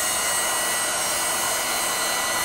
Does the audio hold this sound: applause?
no